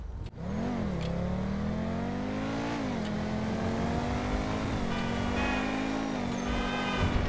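Pegassi Osiris supercar engine in GTA 5 Online revving steadily and loudly, its pitch climbing and dipping through gear changes in one continuous close, unbroken roar with no talk over it.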